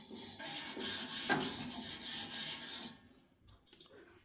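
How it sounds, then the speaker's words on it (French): A brush scrubs the air grilles of an MCZ Ego Air 2.0 pellet stove in steady, rhythmic rasping strokes up close. It stops, leaving a few faint knocks and scrapes. "vous pouvez le faire à la brosse comme ça"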